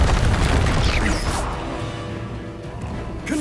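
An explosive Confringo spell impact in Hogwarts Legacy on PS5, a loud close boom with a crashing burst that decays into a lingering rumble over a few seconds.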